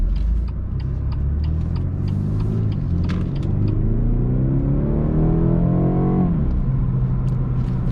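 A 2018 BMW 230i xDrive accelerates at partial throttle from inside the car, engine tone climbing steadily through the revs over a deep road rumble, then dropping off sharply near the end as the shift or lift comes.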